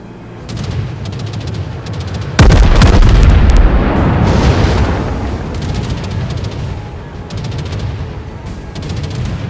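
Battleship main guns in the World of Warships naval game let off one huge close blast that rolls into a long rumbling decay, over a steady background of distant crackling fire and engine noise.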